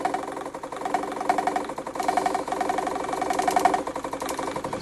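A generator rotor spins during a shorting coil test, producing a steady mechanical hum with a rapid pulsing flutter that holds fairly even and close.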